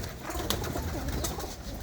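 Soft, low cooing of pigeons repeats against a steady outdoor hum, with a couple of faint sharper bird sounds mixed in.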